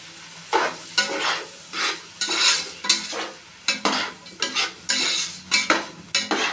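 Tomatoes with rock salt fry in a pan while being stirred vigorously, with repeated bursts of loud sizzling and metallic scraping in an irregular rhythm, close up and with no talk.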